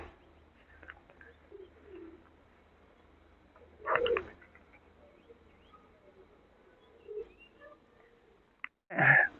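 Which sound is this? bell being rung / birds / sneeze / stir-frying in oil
birds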